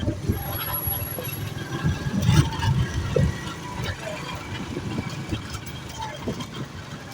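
A motorbike rides slowly into a parking area at Lahore Organic Village, its engine a steady, moderate rumble with a brief louder surge partway through, over continuous outdoor background noise.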